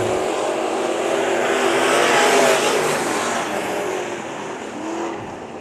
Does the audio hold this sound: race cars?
yes